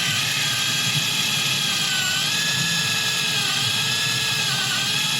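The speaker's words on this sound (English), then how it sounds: "aim the drill, just angle it up ever so slightly" A cordless drill bores a tap hole, angled slightly upward, into a tree for collecting maple sap, giving a steady, loud, high whine that holds throughout without pause.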